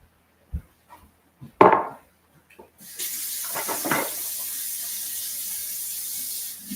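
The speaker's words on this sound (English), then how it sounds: "So now I'm going to get a measuring cup. We're going to get water in it" Following a few sharp knocks and clatters, a kitchen tap is turned on and water runs steadily into a measuring cup, a continuous hiss that lasts to the end.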